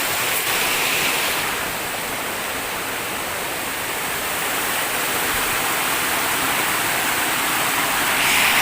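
Constant rushing water from a deep river in a forest, a broad steady roar like a fast-flowing river, loud and continuous with no voices.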